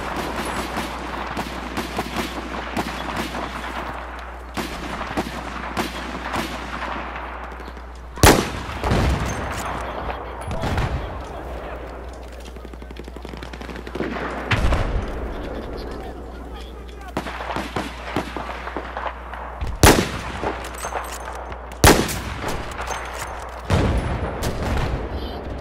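Gunfire and mortar blasts from the video game Battlefield 4, with loud sharp booms recurring every few seconds over a steady crackle of shots and a low hum, while players talk throughout.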